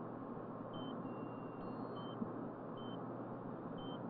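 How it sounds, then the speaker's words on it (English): A cyclotron fault alarm, triggered when the main RF faults off, beeps at regular intervals, short high tones repeating about once a second over a constant low machinery hum. "the beam is off and something is beeping"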